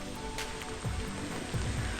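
Steady rain falls on a misty hilltop in Trivandrum, a continuous close hiss of drops hitting surfaces with a few heavier splashes, with no voices.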